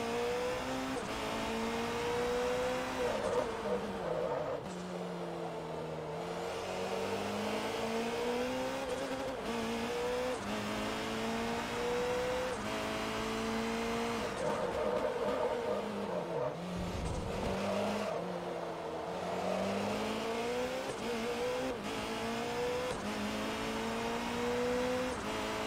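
A 12-cylinder prototype race car in Forza Motorsport 3 screams through repeated upshifts and downshifts, its engine note climbing and falling continuously, loud and alone throughout.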